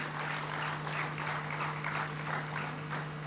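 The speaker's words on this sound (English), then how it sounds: "Let's welcome him with a hearty round of applause, ladies and gentlemen." Quiet applause at a conference inaugural session greets an arriving guest, a soft, steady wash of many hands over a constant low electrical hum.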